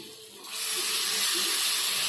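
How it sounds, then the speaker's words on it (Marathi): A short pour of hot water into a pan of cooking dry-fish chutney starts with a rising hiss and steam-like rush that continues steadily, close and fairly loud. "थोडंसं मी हे गरम पाणी टाकते"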